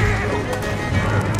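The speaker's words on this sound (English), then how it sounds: "Oh, my horse is freaking out." A frightened horse neighs and whinnies in Red Dead Redemption 2, a strained, wavering cry that carries over the game's ambient background noise.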